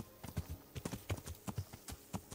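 A horse in the Kingdom Come: Deliverance video game clip-clops along, its hooves striking in an even, quick rhythm of soft thuds, fairly quiet, with no talking.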